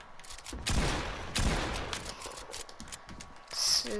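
A rapid burst of video game gunfire with sharp, clustered shots and a crackly, busy background, fairly loud and close throughout.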